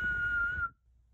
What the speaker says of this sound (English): Mama put her fingers to her mouth and whistled really loud.